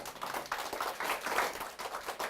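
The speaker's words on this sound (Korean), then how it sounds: "마음에 드시면 박수 한번 보내주세요." An audience at a product sales presentation breaks into a short burst of clapping, quick soft claps at a moderate distance.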